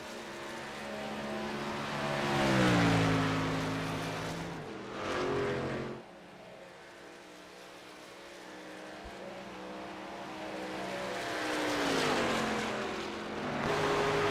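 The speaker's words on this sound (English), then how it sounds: "Richard's rolling off in his Ram truck." A Ram race truck's engine roars around the EchoPark Speedway oval in a racing video game, revving up and down through gear shifts with a loud, sustained drone that swells, dips briefly, then climbs again.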